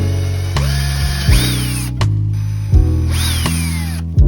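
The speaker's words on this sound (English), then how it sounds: "Drill those holes." A power drill bores holes through a handmade wooden katana in a workshop, two bursts of whining motor with a grinding bite into the workpiece, each ending in a short clatter, close and loud, with no talking.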